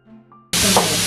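Onions and green chillies sautéing in a pan for vegetable noodles, a quiet start and then a sudden loud, steady sizzling hiss that runs close and alone to the end.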